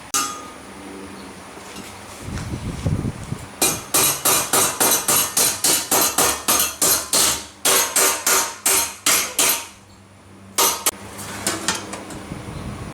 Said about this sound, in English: we're going to pound them out and make them a little squarer